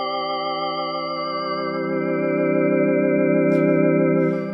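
A sustained chord pad from an Elektron Syntakt, its lows stripped away by a strong high-pass filter and washed in heavy reverb, holding a steady bright shimmering tone close up with no talking.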